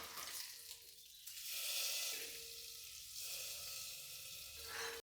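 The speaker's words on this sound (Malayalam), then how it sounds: "ഇനിയിപ്പോൾ നമുക്ക് വെളിച്ചെണ്ണയിൽ കടുക്, പിന്നെ ഉലുവ, വറ്റൽമുളക്" Mustard seeds, fenugreek and dried chilli sizzle and crackle in hot coconut oil, a steady close hiss of frying with scattered pops that carries on for several seconds before cutting off abruptly.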